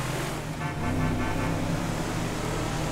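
Car horn of a Wuling pickup in GTA V, a steady tonal honk held through most of the moment over continuous engine and road rumble, fairly close and loud.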